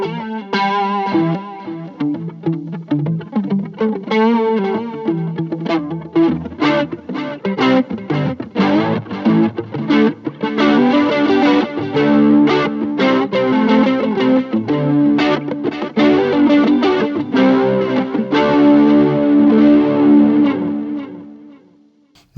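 Electric guitar run through a Boss IR-2 with delay added, playing a loud, distorted, chorused riff with dense repeating echoes; strummed chords and picked notes build steadily for about twenty seconds, then ring out and fade.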